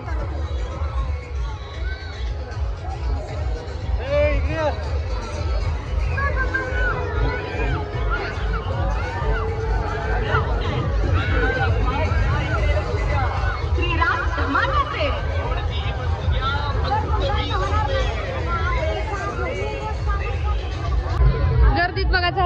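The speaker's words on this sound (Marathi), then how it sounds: "इथे बघा गर्दी किती आहे" Dense crowd babble on the Vitthal temple grounds, many voices overlapping into a continuous loud murmur with no pause, thick and close all around.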